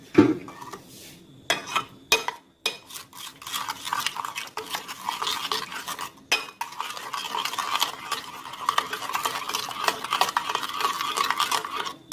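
A spoon stirs mayonnaise through a bowl of chopped Russian salad ingredients, giving soft wet scraping and clinking strokes that come in repeated bursts with brief pauses, close and fairly quiet.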